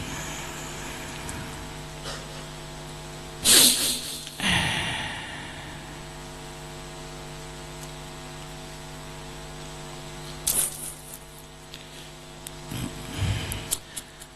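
An electric fan gives a steady, faint hum with a few brief louder rustles and knocks over it, during an indoor religious talk; no voices are heard.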